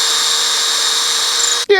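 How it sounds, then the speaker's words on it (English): Whining drill boring a hole with a crude homemade bit, a steady high-pitched tone running continuously before cutting off abruptly, followed by a brief different sound. "let's drill a hole in the bottom so we can put this really crappy bit in"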